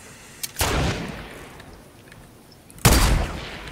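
Two loud gunshots ring out in Fortnite Battle Royale, the first a little under a second in and the second near the three-second mark, separated by a lull of low game ambience.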